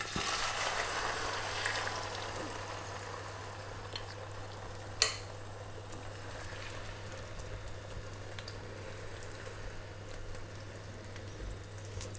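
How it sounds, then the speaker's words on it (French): A trouchia mixture poured into a hot pan of olive oil fries with a constant soft sizzle and crackle, steady throughout, with one brief sharp click partway and no voices. "Une fois que la poêle est chaude, on vient verser notre préparation."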